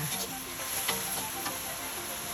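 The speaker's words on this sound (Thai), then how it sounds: "แล้วก็ผัดผันให้เข้ากันค่ะ" Mushrooms in a sauce with sugar, salt and oyster or green-cap seasoning sauce being stir-fried in a pan, giving a steady, fairly quiet sizzle with faint scraping of the spatula throughout.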